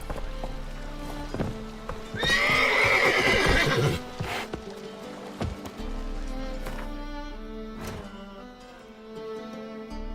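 Roach the horse whinnies loudly in the Witcher 3 video game, then hooves clip-clop at a trot with a steady rhythm, all close and clear over a low background hum.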